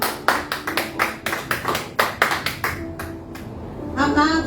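A church congregation clapping in a steady, rhythmic beat, a dozen or so sharp claps close and loud, fading into quieter sound with some voices at the end.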